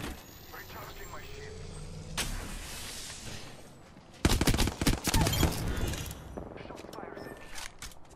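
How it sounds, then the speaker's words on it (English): Gunfire in the Apex Legends video game, with a few sharp shots early and then a dense burst of rapid automatic fire that tails off into scattered shots, close and loud, while a player talks over it. "Shot fires at me."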